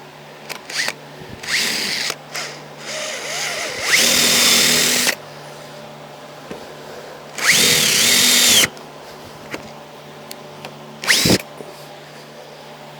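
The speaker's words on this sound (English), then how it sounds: "I'm going to drill a pilot hole right at the end" Power drill boring a pilot hole into the end of a wooden ramp, with two long loud bursts of drilling and several short blips of the motor starting and stopping, close up and alone.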